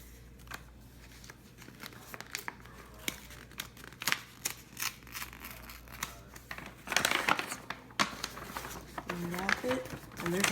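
Packaging of a limited edition journal being unwrapped, with close crinkling, tearing and rustling bursts that grow busier toward the end, alongside a low steady hum.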